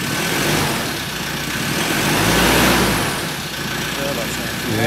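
A 2013 Ford Ranger 2.2 TDCi diesel running on a newly fitted reconditioned engine, a steady close idle that swells slightly as if lightly revved, with people talking over it.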